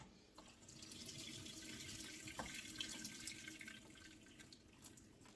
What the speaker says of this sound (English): I'm going to get the potatoes and we're going to get those drained